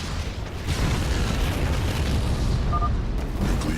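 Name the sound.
nuclear silos exploding in StarCraft II video game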